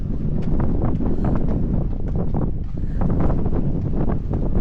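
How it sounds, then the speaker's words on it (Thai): Strong outdoor wind buffets the microphone at an Ironman triathlon in Wales, a loud, constant low rumble with gusty fluctuations throughout. "แต่ลมแรง"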